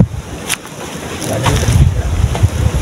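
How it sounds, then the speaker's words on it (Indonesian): Outdoors by the sea, strong wind buffets the microphone over the wash of waves, with a few brief clattering knocks, loud and close throughout. "Tadi kita dengarkan ada angin, ada laut di samping bunyi-bunyian."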